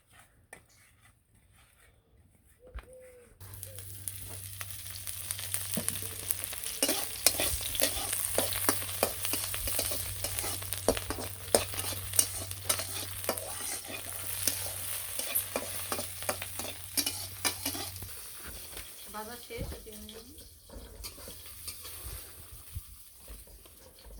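Taki fish frying in oil, a steady close sizzle running for about twenty seconds with frequent clinks and scrapes of stirring and utensils on the pan, starting after a quiet opening.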